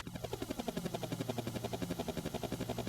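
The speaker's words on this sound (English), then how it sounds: "it's literally just the sound effect of the helicopter" A faint, steady rhythmic chopping of helicopter rotor blades pulses evenly throughout, like a background sound effect.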